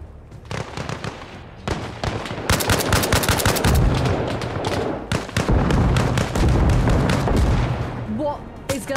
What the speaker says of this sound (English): there's so many explosions trying to kill me